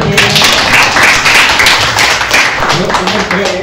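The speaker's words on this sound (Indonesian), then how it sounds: "Oke, tepuk tangan." Classroom audience clapping together, a dense sustained wash of many hands with some voices mixed in.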